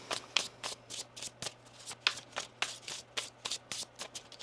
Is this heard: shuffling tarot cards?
yes